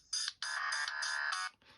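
A Motorola V547 mobile phone ringtone plays a short electronic melody of bright, sustained tones, clear and fairly quiet, with no talking.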